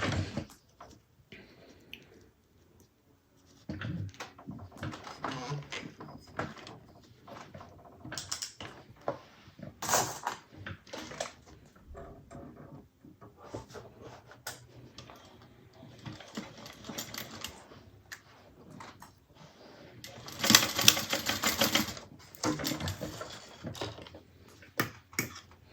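A sewing machine bastes zipper tape along the sides of a fabric bag in short whirring bursts of stitching, separated by pauses and small handling clicks, fairly close.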